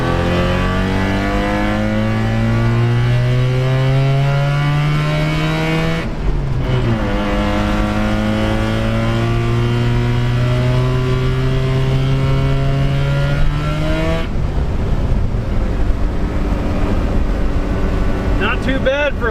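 Tired old 13B rotary engine in a Mazda pickup with a worn clutch, revving up and holding steady drones, with two brief dips as it shifts between gears, close and loud throughout.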